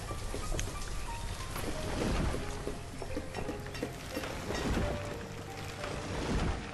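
A steady, dense rain hiss in the Banished video game, with low rumbles that could be thunder, continuous and fairly quiet, with no voices.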